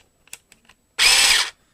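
Motor of a Parkside cordless hedge trimmer from Lidl running alone in a short, loud, steady whirring burst of about half a second, preceded by a few faint clicks.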